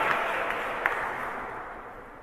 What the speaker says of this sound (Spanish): Desen un aplauso, ustedes cantan mejor que yo.